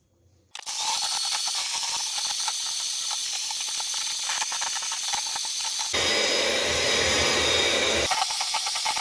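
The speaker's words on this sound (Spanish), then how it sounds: "vamos a empezar a batir las claras" An electric mixer beats egg whites in a bowl, switching on abruptly and holding a steady, close, loud whirring hiss, then deepening into a rougher, heavier churn for a couple of seconds before easing back.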